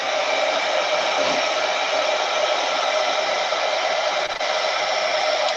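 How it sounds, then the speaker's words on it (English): A hair dryer blows steadily on wet purple and blue paint, a loud continuous whirring rush that holds without break and dips briefly near the end. "The reason I'm drying this is I don't want the purples and blues to mix too much with the whites that I'm going to use for the flower."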